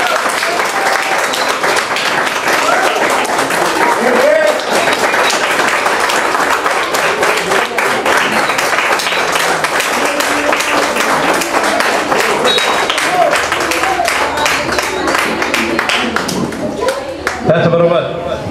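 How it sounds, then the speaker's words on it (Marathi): A crowd gives sustained, dense applause for Datta Patil at a carrom coaching camp honouring ceremony, with voices mixed in and the clapping steady and loud for the whole stretch before tapering at the end. "जोरदार टाळ्या झाल्या पाहिजे दत्ता पाटलांसाठी एकदा"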